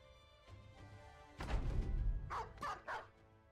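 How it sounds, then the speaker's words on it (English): A dog in the video game Battle Brothers lets out a few close, loud barks, with a louder burst in the middle and three sharp yips at the end over faint background ambience. "They got a dog, that's the only thing that really concerns me."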